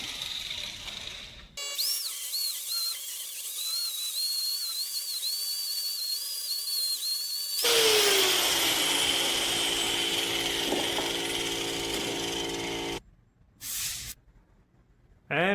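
A grinding wheel working a Damascus steel billet: a high, wavering whine spins up, then gives way to a loud, harsh grinding hiss that runs for several seconds before stopping abruptly, with short bursts after.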